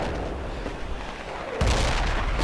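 A mortar round lands in a military shooter on an Iron Ridge battlefield: a sudden heavy explosive boom partway through after a stretch of low rumbling ambience, its loud broadband blast ringing out and lingering to the end.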